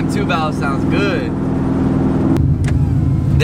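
Ford Mustang with a two-valve V8 engine running, a loud steady low rumble throughout, with a voice talking over the start and the idle getting rougher partway through.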